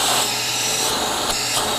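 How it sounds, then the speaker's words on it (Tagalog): A car vacuum cleaner runs close by, giving a steady, loud whooshing motor roar with a rushing-air hiss and no voices. "pakita naman natin yung vacuum niya mga kaibigan"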